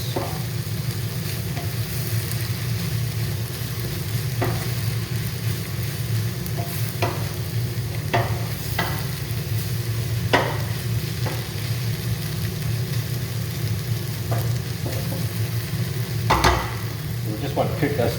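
Chopped vegetables and carrots cooking in a pan for lentil bolognese, a dense continuous sizzle close by, broken by intermittent spoon scrapes and clicks against the pan.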